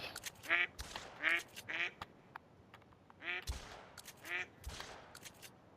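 Ducks quack in repeated calls while sharp shotgun blasts ring out between them during a waterfowl hunt in the video game theHunter: Call of the Wild, Salzwiesen Park, with no talking.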